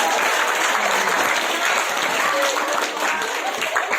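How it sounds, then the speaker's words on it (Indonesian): An audience at an Indonesian police drug-awareness talk gives a sustained, dense round of applause, loud and steady throughout, with voices murmuring underneath. "beri aplaus dulu dong buat Pak Powell"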